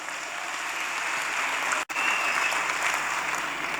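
A church congregation applauding during a sermon, sustained dense clapping from many hands in a large room, briefly cut off once before continuing at full strength.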